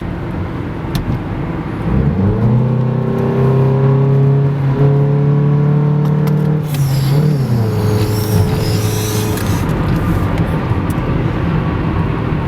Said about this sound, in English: Sounds like a fucking turbo, eh?